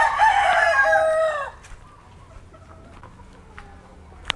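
A pet rooster crows once, loud and close, a long harmonic call that fades after about a second and a half, leaving quiet farmyard background with a few soft clucks and small knocks.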